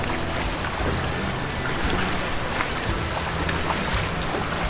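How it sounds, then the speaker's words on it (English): Rushing water in a forest in the Oregon Coast Range, a steady broadband roar that runs unbroken and fairly loud throughout, with no voices over it. "I hear a lot of water."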